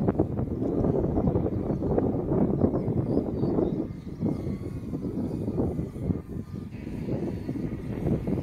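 An RC Mustang model plane comes in to land in a crosswind, its engine a steady, fairly close drone that dips briefly midway before carrying on; no one speaks.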